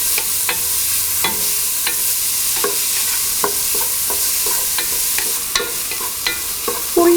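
Onion, ginger, green chili and curry leaves sauté in a pan, a soft constant sizzle broken by regular scraping and tapping of a spoon against the pan, close and alone.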